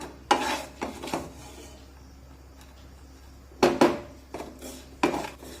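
Roasted sorghum (jowar) flour is stirred in a pan for a breakfast ukadpendi, giving a few scattered scraping and clinking strokes of the spoon against the metal, with quiet gaps between the bursts.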